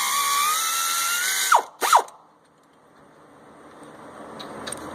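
A ratchet wrench on a 2005 Lincoln Navigator 5.4 3V engine breaks a bolt loose, giving a couple of sharp squeaking, clicking pulls after a steady background hum, then fading to quiet.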